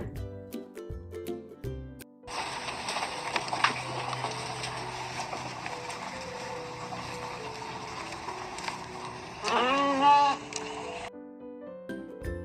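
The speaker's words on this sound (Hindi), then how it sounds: "ये है भेड़, जिसे हम इंग्लिश में बोलते हैं शिप" A sheep gives one long, wavering bleat that swells near its end, set between short musical tones before and after, with no talking.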